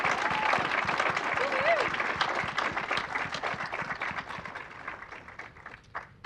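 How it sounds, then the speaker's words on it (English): An audience applauds awardees at an Aspire to Inspire event, a dense round of clapping that gradually thins and fades, with voices talking and calling out underneath. "let's give our awardees one more round of applause"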